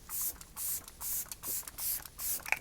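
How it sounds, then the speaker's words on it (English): Setting spray misted onto a face during a makeup routine: five evenly spaced, hissing pumps in a steady rhythm, close and fairly soft, with no talking. "I always run out with setting spray."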